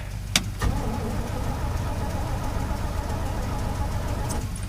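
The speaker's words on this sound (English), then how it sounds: "So first things first, we're going to try and get this one started because we can let this one idle and let it charge its own battery." A 1968 Chevy truck engine turns over in a hard cold start after a couple of sharp clicks, then settles into a steady close rumble that continues through to the end.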